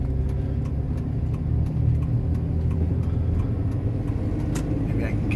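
A 1987 Pontiac Parisienne cruises along a highway with a low, steady engine rumble and road noise, heard from a following vehicle, continuous and fairly close, with small clicks over the drone.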